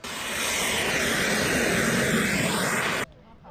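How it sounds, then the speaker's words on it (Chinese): A fighter jet engine roars loud and continuous, a broad rushing blast as the jet comes in to land on a runway, then cuts off abruptly. "这是喷射引擎，那产生的爆炸声有点像雷声"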